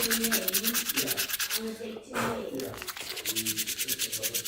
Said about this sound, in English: So sand it all round as it's to get a nice rounded off shape.